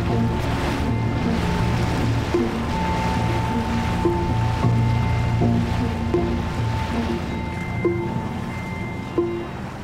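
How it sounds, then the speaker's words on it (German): Research boat heading out on the open sea, a steady loud engine hum with water rushing and splashing along the hull, continuous and close. "fährt Deborah Giles regelmäßig raus aufs Meer."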